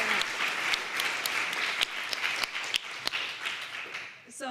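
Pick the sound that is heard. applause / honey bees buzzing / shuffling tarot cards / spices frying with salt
applause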